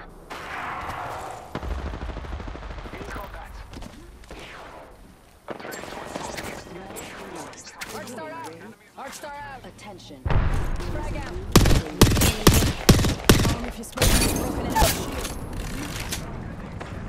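Gunfire from Apex Legends in rapid bursts and sharp volleys, loud and close, with sporadic shots earlier building to dense repeated firing near the end, mixed with game effects and voice lines.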